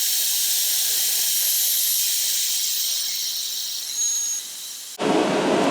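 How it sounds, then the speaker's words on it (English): A heat gun blows hot air over heat shrink on soldered wires, producing a loud, steady high-pitched hiss and roar that runs unbroken, dips slightly, then surges louder and fuller near the end. "grab your heat gun again. Same thing, you're just going to sit here and heat it up until it shrinks"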